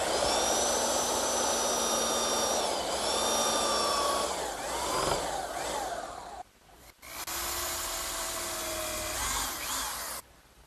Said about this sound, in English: now I'll just use my belt sander to remove the excess dowel